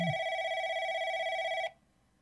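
A telephone rings in the video game Replica, one sustained electronic ring tone that cuts off abruptly after about a second and a half, loud and alone.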